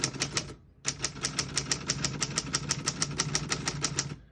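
Keys of a 1938 Corona Standard portable typewriter strike in a steady, rapid run of crisp clacks, with a short pause near the start, heard up close and alone.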